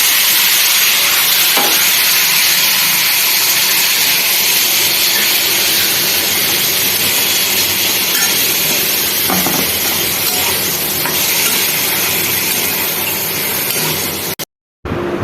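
Peanuts frying and being stirred in a pan for flattened rice pulao, giving a steady, loud, continuous sizzle with scattered scraping clicks throughout, no talking, cutting off abruptly near the end.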